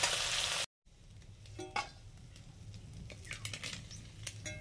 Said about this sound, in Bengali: চুনো মাছগুলো ভাজা হয়ে গেছে